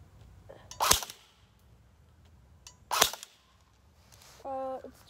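Two sharp semi-automatic shots from an M4-style pistol ring out outdoors about two seconds apart, each a loud crack with a brief tail, followed by a short tonal beep near the end.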